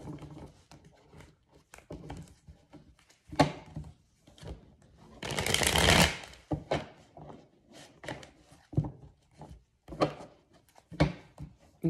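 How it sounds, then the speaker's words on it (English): Tarot cards are shuffled with soft riffling and flicking, then a denser burst of rapid riffling, followed by scattered taps and rustles. "let me shuffle this really quick"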